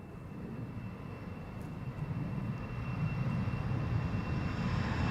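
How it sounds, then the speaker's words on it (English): An Embraer 190 jet taking off from Amsterdam's Polderbaan runway 36L gives a steady, broad engine roar that slowly swells over several seconds, with no voices. "it's an Embraer"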